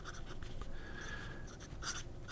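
Sailor Pro Gear fountain pen nib scratching across paper in a short, steady writing stroke, faint and close, with soft scritching textures and no talking.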